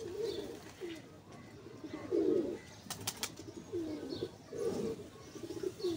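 Pigeons coo in short, low, throaty phrases, several separate calls spaced a second or so apart, close by over a quiet background.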